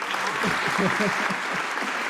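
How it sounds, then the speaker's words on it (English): Closing applause on a podcast, a short, steady patter of clapping from a small group with low voices murmuring underneath. "One more round of applause."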